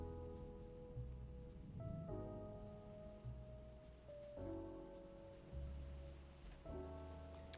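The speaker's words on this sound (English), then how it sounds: "I go outside, it's raining." Quiet, steady rain falls outdoors in the video game Clue: Murder By Death, pattering softly beneath sustained game music tones.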